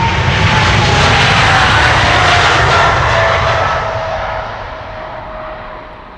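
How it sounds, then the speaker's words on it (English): An Emirates jet airliner takes off from Amsterdam Schiphol with a loud, close rumbling roar and a thin whine, holding steady before fading away over the last seconds, with no voices. "Emirates flight 146 is leaving."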